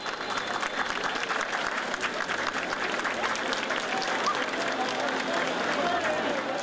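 Crowds applaud along the route of the Círio de Nazaré procession, a steady wash of many hands clapping outdoors, with voices mixed into the dense, even din.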